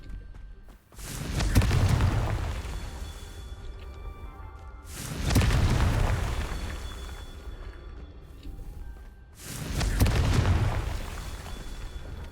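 Three deep rumbling booms from the Confringo explosive spell in the game Hogwarts Legacy, each blast swelling and then decaying slowly, spaced a few seconds apart over a steady background drone.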